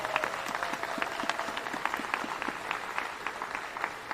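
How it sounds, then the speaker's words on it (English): Audience applauding teachers at a city key ceremony honoring a coach, a steady wash of many hands clapping throughout, moderately distant and even with a faint tonal hum beneath. "give them a round of applause"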